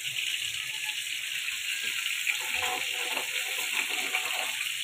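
Lentil water pours into a cooking pan in a steady, rushing gush that lasts a few seconds, close and fairly loud, with no talking.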